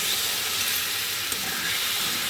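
Coconut milk poured into a hot pan for a potato, pointed gourd and prawn curry, giving a steady, close hissing sizzle that holds evenly throughout with no talking.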